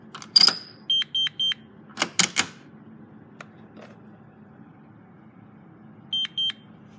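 A GE Simon XT alarm panel gives a quick run of three electronic beeps after a deadbolt thunks open, then a pair of beeps several seconds later, close by in a quiet room.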